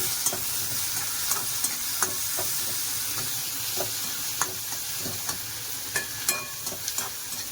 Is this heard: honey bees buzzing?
no